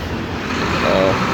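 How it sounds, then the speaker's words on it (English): A truck rumbles past on a busy roadway, a steady broad road noise that swells slightly as it goes by, close and loud. "a truck is going by"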